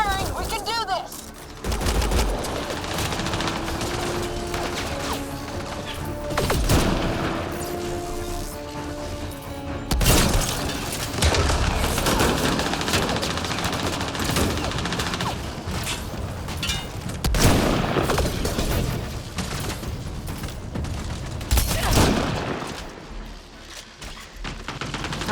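Sustained gunfire from a firefight in the video game Mass Effect: Andromeda, with dense, loud bursts of shots and booms continuing throughout, sharp blasts punctuating the steady barrage, and a voice speaking over the battle at times.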